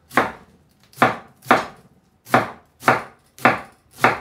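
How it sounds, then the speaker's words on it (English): A knife chops cabbage for sauerkraut on a cutting board, seven sharp, close thuds in an uneven steady rhythm with a brief gap midway, and no talking. "Then go ahead, chop some more."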